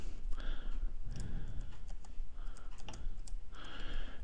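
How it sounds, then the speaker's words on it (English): Password typed on a computer keyboard while working from home over a VPN connection, a few short bursts of soft key clicks separated by brief pauses, fairly close and alone. "Type my very complicated password here."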